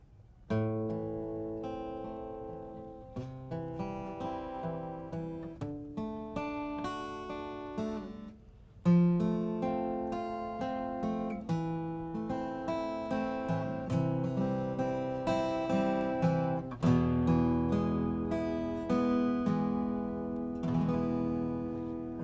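An acoustic guitar plays House of the Rising Sun, a steady fingerpicked folk tune, arpeggiated chords ringing out on their own, moderately quiet and close.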